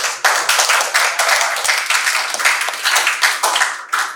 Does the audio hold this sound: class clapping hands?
yes